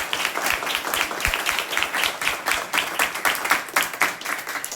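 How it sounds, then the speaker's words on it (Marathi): An audience claps steadily for several seconds, dense overlapping hand claps with a lively uneven rhythm, fairly close and loud, with no talking over it. "त्याच्यासाठी जोरदार टाळ्या वाजवा"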